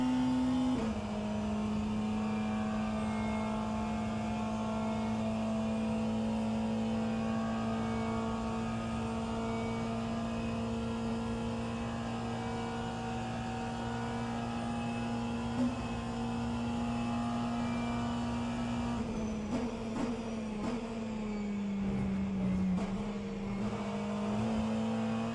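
Hypercars racing in rFactor 2 at a virtual 24-hour endurance event: a steady, sustained engine drone holds for most of the stretch, then shifts pitch and wavers near the end as cars approach, with no talk.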